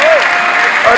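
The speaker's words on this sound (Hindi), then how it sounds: "जरा जोर से ताली बजाओ" A crowd at an election rally in Jammu applauds, a brief dense burst of clapping with a loud amplified voice audible through it.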